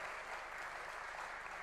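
Faint, even applause from an audience at a university CFO summit, a short steady wash of clapping with no voices.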